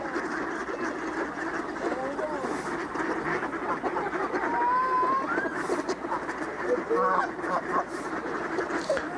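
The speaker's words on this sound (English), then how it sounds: "it's mostly ducks" A winter flock of ducks, with a couple of Canada geese nearby, quacks repeatedly along a walkway, with steady outdoor background noise and some faint voices.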